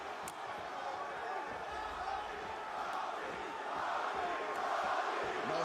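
An arena crowd at a UFC bout between Robbie Lawler and Colby Covington keeps up a loud, continuous roar, swelling toward the end, with a commentator's voice faintly present beneath it.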